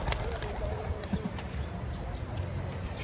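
Racing pigeons, just released during basketing practice for a loft, coo softly nearby with a few faint chirps and quiet rustles over low outdoor background noise.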